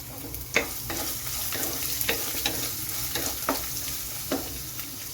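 Chopped ginger and dried red chillies hit a hot pan for Kerala-style oats upma, giving a steady sizzle with several sharp scraping stirs spaced through it, close and fairly loud.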